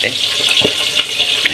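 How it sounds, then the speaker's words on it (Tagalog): Hot water pours from a thermos into a cooking pan of fried fish and sautéed bean sprouts, a steady close splashing trickle with a brief low gurgle partway through. "Kumuha tayo ng tubig galing sa thermos. Yan, nilagay po natin."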